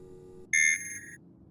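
An identity scan in the video game Mortuus Est sounds as a sudden bright electronic tone that steps down in pitch and holds briefly before cutting off, over a faint low hum.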